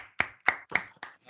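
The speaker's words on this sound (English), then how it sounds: "Give yourselves a big round of applause." Five sharp, evenly spaced claps from a small group in unison, crisp and close with brief silences between each beat.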